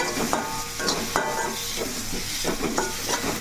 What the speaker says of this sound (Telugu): ఇదైతే మనకి ఇంకొంచెం వేగాలి